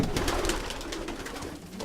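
Racing pigeons coo softly inside a loft, with repeated low calls over a steady background hum and no talking.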